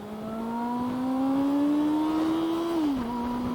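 A 2022 Honda CB400 Super Four inline-four motorcycle engine revs up steadily, its pitch climbing as it comes onto VTEC, then drops briefly before holding again; loud, close and without talk.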